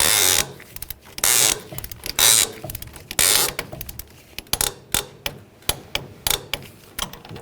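The link nut on a GMC Sierra 1500 front suspension is torqued to spec with a hand wrench, giving a string of sharp, close clicks and metallic taps. They come in short uneven bursts and then settle into a steadier ratcheting rhythm.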